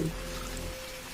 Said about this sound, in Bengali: গাছের পাতা থেকে ফোঁটা ফোঁটা জল পড়ছে টপ টপ করে